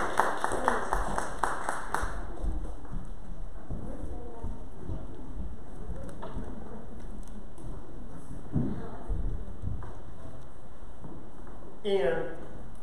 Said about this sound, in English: a round of applause for these 2 9-year-olds